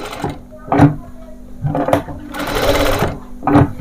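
A sewing machine stitches a small frock for a 3 to 5 year old, running in several short close bursts with pauses between, and a voice talks softly in between.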